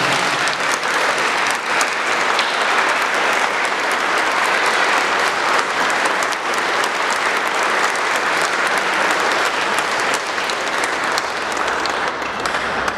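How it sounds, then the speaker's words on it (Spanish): A crowd at a wedding claps loudly and continuously, sustained applause that holds steady throughout without any talking. "les brindemos un fuerte aplauso"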